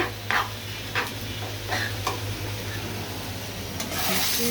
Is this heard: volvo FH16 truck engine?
no